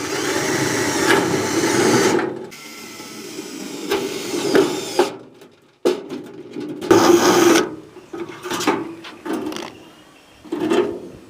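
Self-tapping screws being driven into the four corners of a tin for a homemade cotton candy machine, giving bursts of grinding, rasping drill noise with short pauses between screws, close and fairly loud.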